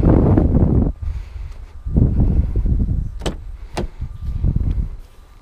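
The door of a 2017 Ford Mustang GT California Special convertible opens and closes as someone gets in, with a rustling shuffle, a solid thud and a couple of sharp latch clicks close by.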